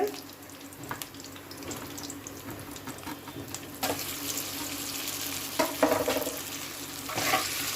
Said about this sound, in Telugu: వేసేసి బాగా కలపటం బాగా పచ్చివాసన పోయే వరకు వేయించుదాము